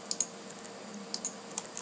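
Sharp, quiet clicks of a computer mouse selecting options on a form, arriving in small irregular pairs and singles over a faint room hum.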